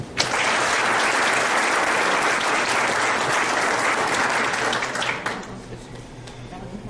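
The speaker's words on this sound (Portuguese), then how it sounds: "com uma forte salva de palmas" A large audience breaks into loud, sustained applause to welcome a speaker at an ADHONEP business gathering, dense clapping filling nearly seven seconds before tapering slightly at the end.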